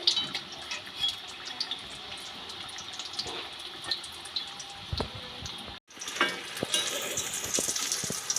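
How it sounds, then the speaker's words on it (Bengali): Savory evening snacks deep-frying in oil over a medium flame, a continuous soft bubbling sizzle with occasional light clinks, close and even, with a brief pause before it resumes. "উল্টে পাল্টে লাল লাল করে ভেজে নিতে হবে"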